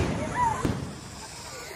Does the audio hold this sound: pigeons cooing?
no